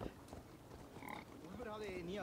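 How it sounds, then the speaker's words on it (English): Pigs in a video game give a few faint, low grunts and snorts, brief and quiet against the game's background sound. "Oh, that's the pigs."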